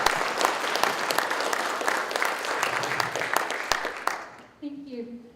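Warm round of applause from a conference audience at a Starship Congress talk, dense steady clapping for about four seconds before it fades, then a speaker's voice begins alone.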